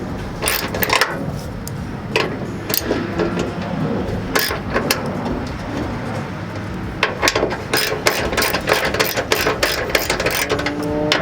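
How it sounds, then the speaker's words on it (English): A ratchet with a 12mm socket clicks in quick, uneven bursts as hood bolts come off a Toyota Tacoma, close and fairly loud, with light scraping and handling noise between the runs of clicks. "taking 4 bolts here on the right side and 4 bolts on the left side, and you're going to be using a 12mm socket"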